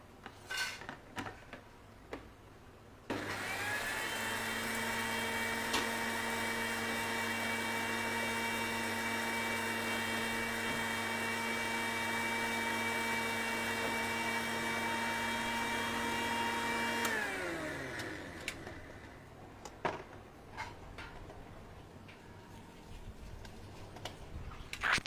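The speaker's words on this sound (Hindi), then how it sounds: "मिक्सी में पीस लेंगे।" A mixer grinder grinds pav bhaji spice masala, whirring loudly and steadily for about fourteen seconds, then winds down, with faint clattering before and after.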